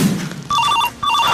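A telephone rings in two clear electronic bursts, loud and close, with a short gap between them and a low murmur beneath; the setting is a village meeting.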